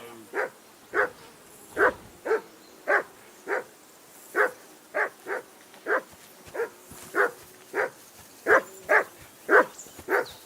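Dog barking in the medieval game Kingdom Come Deliverance 2, a steady run of about twenty sharp, fairly close barks at a regular rhythm, with no other sound around them.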